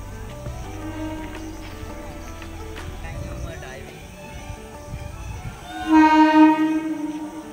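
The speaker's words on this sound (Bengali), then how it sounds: "ট্রেন ঢুকছে" A Domjur to Amta local train pulls into a station, with a rising rumble and a loud tonal swell near the end over a steady background of platform noise; people talk in the background.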